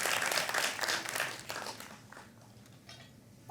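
Audience applause at a Hindi comedy poetry show, a moderate scatter of clapping from a crowd that fades gradually over a few seconds, fairly distant and not very loud.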